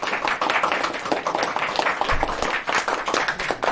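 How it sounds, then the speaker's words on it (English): A room full of classroom students claps together, producing dense, lively applause that stays steady and close for a few seconds without talking. "Let's clap for the viewers again."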